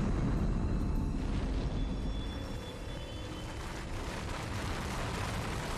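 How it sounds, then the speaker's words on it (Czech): Volcanic eruption near Pompeii heard as a loud, continuous low roar and rumble with broadband blast-like noise throughout, no voices. "Pak najednou v 1 hodinu došlo k erupci."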